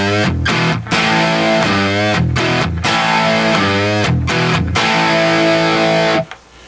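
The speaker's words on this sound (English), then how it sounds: "Here's with the overdrive turned on." Overdriven electric guitar chords through a Trinity Amps Triwatt amp ring out loud and gritty, held long with short breaks between changes, ending in a fading crackle.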